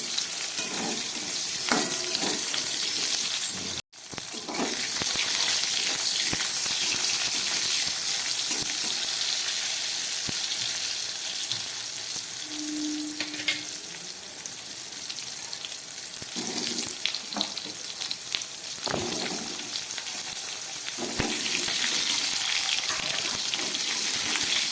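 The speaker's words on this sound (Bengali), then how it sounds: "পটলগুলোকে একটু ভেজে নিচ্ছি" Pieces of tender pointed gourd (potol) fry in oil with a continuous close sizzle, broken by scattered stirring clicks and scrapes, and one brief sharp dropout early on; no talking.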